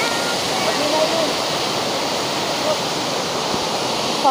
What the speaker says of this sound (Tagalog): Grabe yung agos kung narinig nyo lang.